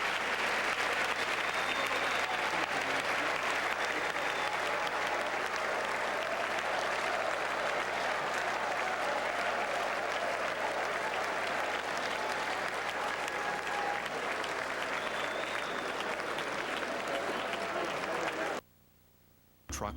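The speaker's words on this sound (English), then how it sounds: "Partisan applause, of course, everybody joining in solidarity with the Ukrainians" A crowd applauding a speech, steady sustained clapping filling the room for most of the stretch before cutting off abruptly near the end.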